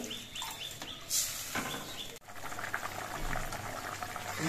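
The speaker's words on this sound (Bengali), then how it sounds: "এবার ঝোলটা কিছুক্ষণ ফুটিয়ে নিতে হবে।" A pot of khoira fish curry gravy with potatoes simmers in a continuous bubbling boil, soft and close, with small pops and a few faint clicks and knocks around it.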